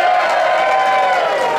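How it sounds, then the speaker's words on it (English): A small crowd of people applauding and cheering, a short burst of clapping mixed with whoops and voices, close and lively throughout. "Give us a bit of a round of applause"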